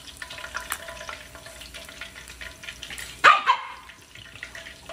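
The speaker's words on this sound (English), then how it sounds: "This dog refused to let me be great." A dog barks twice in quick succession, loud and close, over a continuous sizzle of snapper frying.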